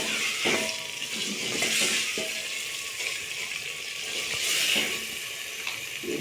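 Chicken frying and being stirred in a pan for a cabbage-and-meat curry, a continuous loud sizzle with scraping strokes of a spoon rising and falling close by.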